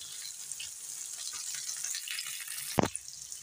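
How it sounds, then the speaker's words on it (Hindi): Tomatoes frying in a pan for a pizza sauce give a steady, close sizzle while a spoon stirs them, with a brief louder clatter near the end and no talking. "अब हम इसमें टमाटर भी डाल देंगे अपने, ताकि ये भी साथ साथ फ्राई हो जाएं"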